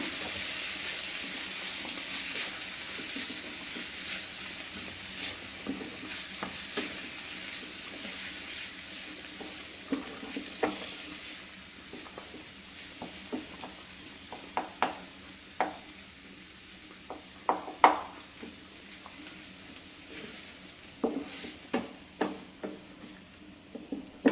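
Sauces are stirred and mixed in a sizzling pan during a live cooking session, with a steady low frying hiss under repeated scraping and stirring clatters that grow sharper toward the end.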